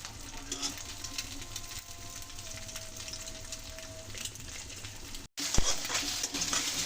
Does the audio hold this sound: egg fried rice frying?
yes